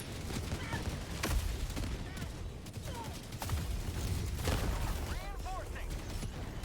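Rapid bursts of gunfire crackle through a video game shootout, sharp shots scattered irregularly amid chaotic combat noise, with players talking over the action.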